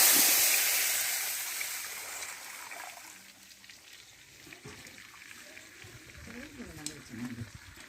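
Tamarind water poured into a citron curry pan, starting with a loud rushing pour and sizzle that fades over a few seconds, followed by quieter pan sounds and some talking.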